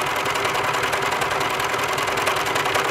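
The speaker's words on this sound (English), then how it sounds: "You want to be serging just the one layer." A serger runs steadily while overlocking a single layer of fabric, its fast mechanical whir holding an even, unbroken rhythm close by throughout.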